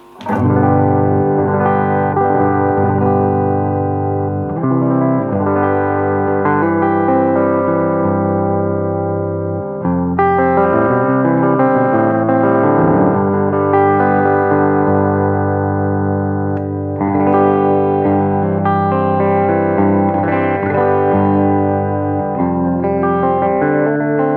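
An overdriven electric guitar through a vintage 1952 Fender 600 tube amp plays full sustained chords and melodic lines with warm, thick tone and a touch of echo, continuous and loud throughout.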